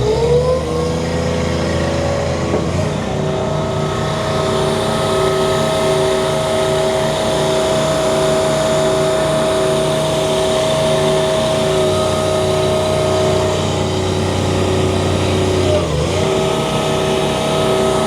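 A 42 XDI mulcher's diesel engine drones loud and close without a break, labouring as it chews through wood, with brief dips in pitch where the load bites harder, and no voices over it.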